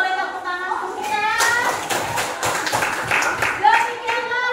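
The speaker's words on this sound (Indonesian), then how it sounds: "Boleh tepuk tangan untuk kita." Hand clapping from a group, likely children in a classroom, with scattered irregular claps mixed under lively talking and excited young voices.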